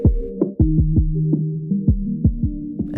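A synth bassline of short plucked notes whose tone sweeps and shifts as a filter changes, controlled from an expressive MIDI controller ring, steady rhythm, no voices.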